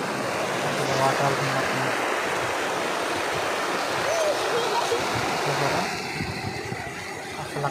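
Small waterfall pouring in a scenic outdoor spot, a steady broadband rush of falling water that runs loud throughout, easing slightly near the end, with faint voices beneath.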